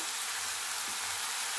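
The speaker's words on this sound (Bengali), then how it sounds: "এবার সুন্দরভাবে মশলাটাকে কিন্তু কষে নিতে হবে" Spice masala fries in a pan with a steady, even sizzle and hiss from start to finish, with no voices.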